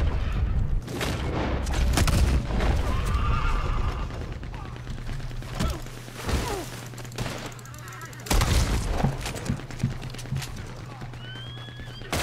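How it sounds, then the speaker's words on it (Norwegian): Gunfire in Red Dead Redemption 2, sharp shots ringing out among neighing horses and clip-clopping hooves, loud bursts scattered through a busy outdoor fight, with a voice talking briefly. "Ja, så skyter du jævlig mange foran deg."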